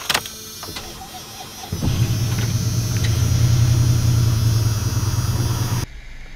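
A vehicle engine cranks and starts off a small portable jump booster after a cold winter, then settles into a steady low rumbling idle that cuts off near the end; no talk.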